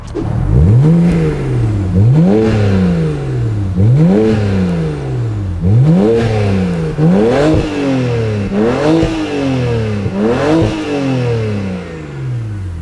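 A BMW six-cylinder car engine, such as the 335i E93 or M3 E92, is revved repeatedly and close by, with about seven rising-and-falling vroom sweeps at a steady two-second rhythm, loud and with no talking over it.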